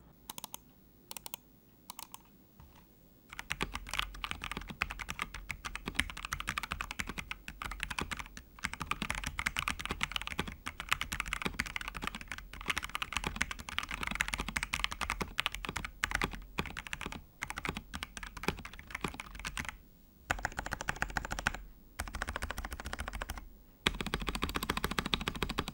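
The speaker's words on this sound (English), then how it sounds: "Let's move on to the typing sound test." Rapid clacky keystrokes of a FEKER IK75 mechanical keyboard with POM plate, Feker Crystal switches and PBT keycaps, fast continuous typing with brief pauses, close and crisp.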